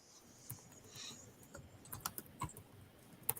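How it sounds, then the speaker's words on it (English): Quiet, rapid typing on a computer keyboard, with soft uneven key clicks and a few sharper taps in a near, otherwise hushed room. "I was typing here"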